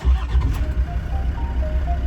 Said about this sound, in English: So the car starts